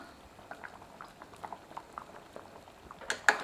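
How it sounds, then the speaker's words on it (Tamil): Soft bubbling and popping of a pot of sambar with tamarind water on the boil, irregular small bursts over a low simmering hiss, close by with no talking. "இப்போ புளித்தண்ணி விட்டு நல்லா கொதிச்சு வந்துருச்சுங்க"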